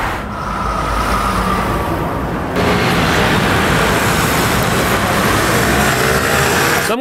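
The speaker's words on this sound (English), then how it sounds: "So we're gonna look for some traffic sound effects because that's what our short film was calling for." Road traffic stock sound for a short film: a dense, continuous roar of passing cars that steps up louder partway through, with no voices.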